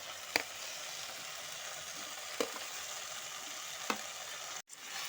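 Bengali-style Malabar spinach and prawns cooking in a pan, with fried eggplant and potato added. A faint, steady sizzle and hiss runs throughout, broken by a few soft clinks and a brief dropout near the end. No talking.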